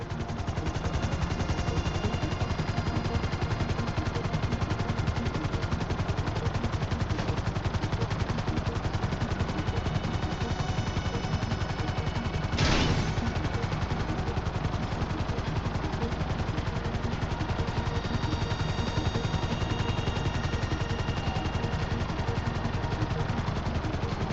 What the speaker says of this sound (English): Hover above so I can shoot down into it.